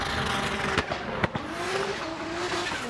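A Nissan S14 drift car slides through a pro qualifying run at St. Louis, its tires squealing in a long sustained wail over roaring engine noise, with a few sharp cracks along the way.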